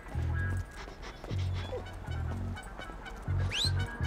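Chop the dog barks in Grand Theft Auto V, a run of close, loud barks in short bursts, about five in four seconds, over game ambience with a brief bird-like chirp near the end.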